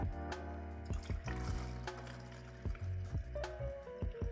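Warm water for a film pre-wash is poured into a development tank in a steady, gurgling flow with bubbly splashes, close and quiet.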